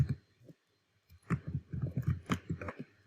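Computer keyboard keys click in quick, uneven clusters close by, with a short pause before a busier run of taps.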